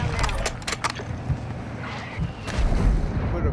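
Artillery strike in Call of Duty: Modern Warfare II, heavy booming impacts and rumbling blasts thudding in quick succession, with a couple of sharper cracks early on and a deep rumble at the end.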